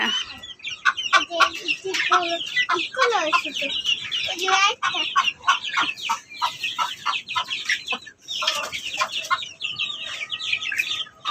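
Chickens clucking nearby in busy, repeated bursts, several birds overlapping with short choppy calls and brief pauses, fairly loud throughout.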